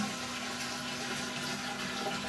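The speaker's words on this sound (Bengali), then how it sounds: "এখানটায় একবার ফ্ল্যাশ করবেন ফ্ল্যাশ করে দিলেন" An English-style (western) toilet flushing, a steady, close rush of running water that holds evenly throughout with no voices.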